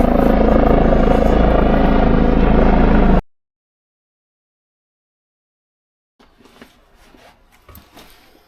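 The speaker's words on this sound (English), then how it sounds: "and there's an helicopter." A helicopter passes overhead with a loud steady beating roar for about three seconds. It then cuts to silence before faint street noise returns.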